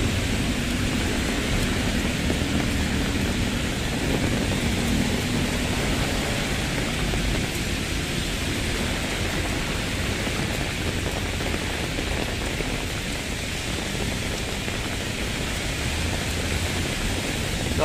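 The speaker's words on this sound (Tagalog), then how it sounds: "Kahit matindi ang ulan ngayon at talagang madilim ang kapaligiran." Heavy rain pours steadily at Manila Bay, a dense, even hiss of falling water that holds at a constant level throughout with no voices.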